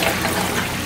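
An Aqueon aquarium sump's Herbie overflow gurgles and sucks a lot of water down its line, a loud, dense, continuous rushing slurp heard close up on its own.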